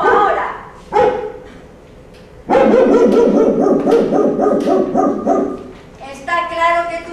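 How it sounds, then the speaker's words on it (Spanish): A dog in a staged theatre scene barks in loud, sharp bursts, one near the start and a denser run of repeated barks in the second half, mixed with other voices. "Lo lógico era que me ladraras cuando me viste pasar"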